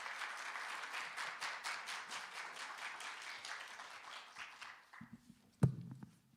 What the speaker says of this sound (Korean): 귀한 시간을 내주신 전호영 교수님께 큰 박수 부탁드립니다.